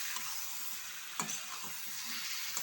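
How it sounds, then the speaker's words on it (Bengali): Marinated chicken is tipped over browned onions in a hot pan and stirred, giving a steady broadband sizzle with a few soft scraping knocks of the spoon, close and alone. "এবার উল্টিয়ে পাল্টিয়ে ভালো করে নেড়ে চেড়ে নেব।"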